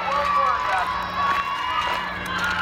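A large crowd at a summer camp's final evening service, a loud steady hubbub of many voices shouting and cheering together, continuous and close with no single speaker standing out.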